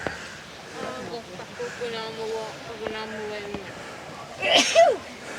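A single sharp sneeze bursts out loudly near the end, following a stretch of people talking on the Giant's Causeway coast.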